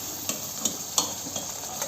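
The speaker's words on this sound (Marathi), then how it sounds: "असं मस्त कालून घ्यायचं पूर्ण मसाल्यामध्ये." Garlic mutton pieces stirred through masala in a pan for a mutton curry, a steady sizzle with a few soft scraping strokes at regular intervals, close and moderately quiet, no voices.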